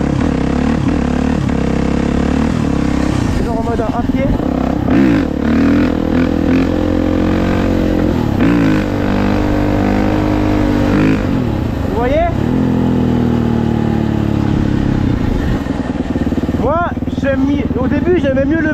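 A 4.5 motorbike engine revs continuously while the rider pulls a wheelie, held only by engine braking with no brake used; loud, steady throttle swells and drops run throughout, with talk over the engine.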